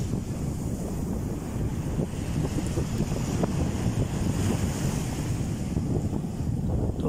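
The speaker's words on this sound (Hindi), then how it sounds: "आपको ये पानी की जो लहरों से अंदाज़ा हो जाएगा कि वहाँ पे जो है हवा वगैरह का क्या दबाव है वहाँ पे।" Sea waves wash steadily onto a beach at Umm Al Quwain on a cool day, mixed with constant wind buffeting the microphone, a continuous roar with no voices.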